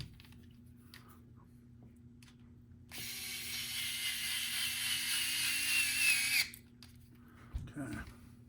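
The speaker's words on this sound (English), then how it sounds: "going to put the four screws back in the bottom here." Screws being driven into an Axial SCX10 III transmission by a small powered driver, one steady whirring run of about three seconds in a quiet room, with faint speech around it.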